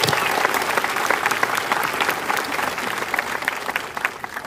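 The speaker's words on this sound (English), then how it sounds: "Please join me in acknowledging these individuals with a round of applause." Audience at a 2013 commencement ceremony claps in sustained, dense applause for several seconds, a steady crackle of many hands heard from within the crowd.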